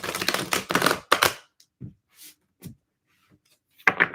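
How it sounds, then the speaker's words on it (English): Tarot cards being shuffled in quick riffling bursts, a flurry of crisp papery flutters at the start, then a few soft isolated taps and card handling sounds before another short burst. "I'll just do one more shuffle."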